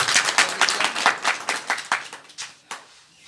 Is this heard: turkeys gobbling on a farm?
no